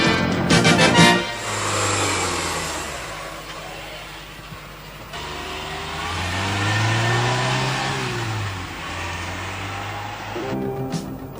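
A Peugeot 205 CT cabriolet with a 1360 cc, 80 hp engine and five-speed gearbox pulls away and accelerates, its engine note rising and falling through gear changes, close and fairly loud, with a brief clatter at the start and end.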